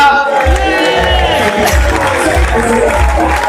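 At an Ethiopian community award ceremony in America, a crowd claps and cheers loudly and continuously, with excited voices and ululation-like calls mixed into the din.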